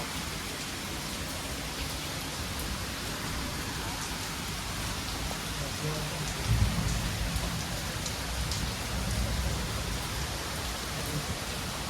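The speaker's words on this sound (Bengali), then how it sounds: "এখনো বাইরে বৃষ্টি হচ্ছে।" Steady rain falls outside the balcony of a riverside guest house on the Ichamati River at Taki, a continuous dense patter with one brief louder bump midway and no talking.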